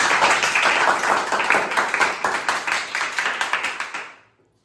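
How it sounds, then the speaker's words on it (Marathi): Applause for a child who solved a number puzzle: a burst of rapid clapping from a group, steady and fairly loud, that gradually thins out and fades to silence. "याबद्दल राजनंदिनीसाठी टाळ्या वाजायला"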